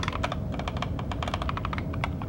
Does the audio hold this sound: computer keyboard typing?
yes